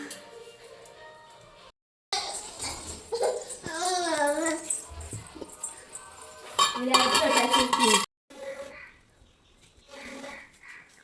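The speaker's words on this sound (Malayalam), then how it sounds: "എന്നിട്ട് നമുക്ക് ഈ ചട്ടി എടുത്ത് വെച്ചു" A cooking pan holding water and salt is handled in a kitchen, with clattering and metallic clinks and scrapes coming in bursts, close by, while a person talks over them.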